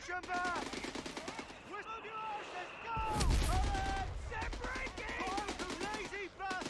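Rapid machine-gun bursts and rifle fire rattle through a Company of Heroes 3 battle between British forces and a German opponent, with a heavy boom midway and continuous volleys throughout.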